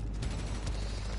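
Dense, continuous gunfire from the video game Spider-Man Miles Morales, a steady loud crackling volley with no pauses across the short span.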